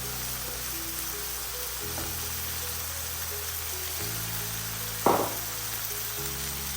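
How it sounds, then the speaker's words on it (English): Garlic and ginger paste frying in an Instant Pot while chana dal is being made, a steady close sizzle with a faint background hum and one brief louder clink partway through. "we're going to fry this for a few minutes, a couple of minutes, until the garlic and ginger have cooked as well"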